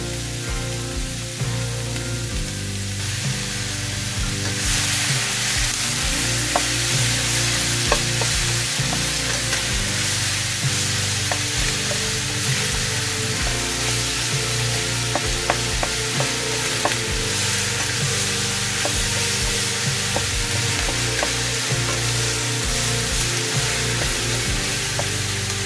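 Ground beef sizzling and frying steadily in a dry pan with no oil, a loud continuous crackling hiss close up with occasional sharp pops and stirring scrapes, no voices.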